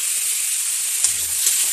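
Boiled tomatoes dropped into a hot pan of oil give a steady, close hiss of sizzling with a brief louder spurt near the middle, heard alone with no talking.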